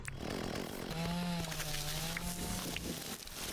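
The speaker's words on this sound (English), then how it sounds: "we can finally use our new chainsaw" Chainsaw cutting in the video game Dinkum, a steady buzzing engine drone held throughout at moderate loudness, with a higher whining tone rising partway through.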